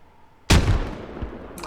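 A grenade blast in a boot camp training demo, a single loud sudden burst that rolls off into a long decaying rumble, heard alone without talk.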